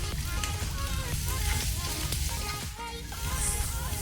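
Onions sizzling in a pan for a chana gravy, a dense steady frying crackle, close and continuous with no talk.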